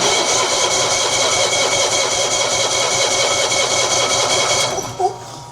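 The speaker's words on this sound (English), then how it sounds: "Let's try that again." A Cushman engine runs on a starting attempt, chugging loudly and steadily for about five seconds before it cuts out abruptly, leaving a brief clunk.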